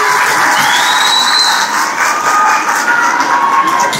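An audience at a live stand-up comedy show in Rukum West claps and cheers loudly and continuously, a dense wash of applause with a few shouts rising through it.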